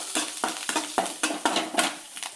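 Spices and chopped green coriander sautéed in a pan for a broccoli curry, with rhythmic stirring strokes and a bright crackling sizzle repeating steadily and close, no talking.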